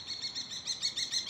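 Small bird calling at sunrise in Spain, a string of high rhythmic chirps repeating several times in quick succession, fairly clear over quiet background with no talking.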